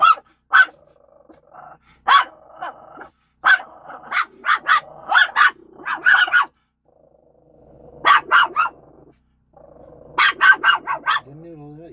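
A dog barks repeatedly in short clustered bursts, close and loud, with growly undertones and quiet pauses between volleys, while another low voice-like murmur sits faintly beneath.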